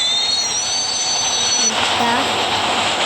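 A train in a video game rumbles steadily past, with a high metallic wheel squeal that fades partway through, loud and close with no talk over it.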